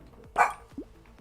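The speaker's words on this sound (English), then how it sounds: "your dog was barking" A single short dog bark, close and fairly sharp, followed by a faint higher yip, with no talking.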